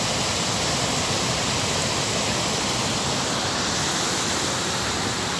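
Çiseli waterfall near Karaoluk in Ordu, Turkey, about ten metres high, giving a dense, continuous roar of falling water heard close and loud, alone without voices.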